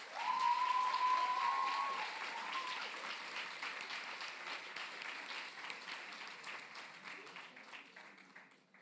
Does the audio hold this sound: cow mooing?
no